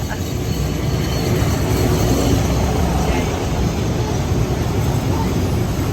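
A train in Thailand rumbles past close by, a loud continuous roar of wheels and carriages filling the whole stretch without a break.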